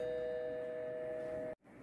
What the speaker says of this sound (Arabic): ده جرس الباب.